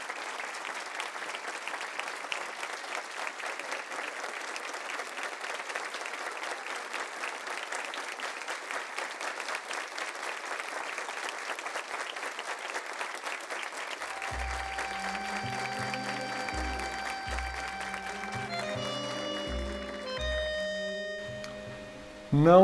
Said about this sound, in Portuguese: Plateia se levanta e aplaude Rubem Alves.